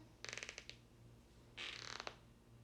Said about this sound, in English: Notice your creaky floor if you have a creaky floor like mine.